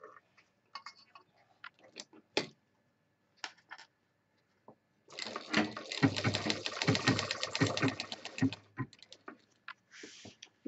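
A sewing machine joins fabric panels of a handbag pouch with a zip, starting from the center: a few isolated clicks and short bursts, then a steady run of rapid stitching lasting about four seconds, fairly quiet and close.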